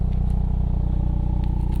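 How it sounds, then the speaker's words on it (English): A 2022 Hyundai Kona N's large-diameter exhaust pipes give off a steady, loud, pulsing drone with a fast regular beat and faint crackle, heard from the cabin while driving with no talking. "You got these large diameter exhaust pipes. Listen to that sound."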